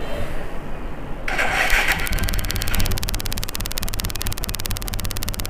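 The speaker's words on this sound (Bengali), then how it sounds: "এখন দেখেন বাইক স্টার্ট হবে" After the CDI wiring fault is repaired, a motorcycle engine cranks and then catches, settling into a loud, rapid, even idle putter close by. No voices are heard.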